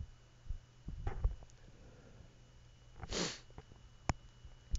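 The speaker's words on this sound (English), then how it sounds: "If I'm sniffling a little bit" A few faint sniffles through the nose in a quiet room, short sharp intakes scattered across a few seconds with one stronger sniff near the middle.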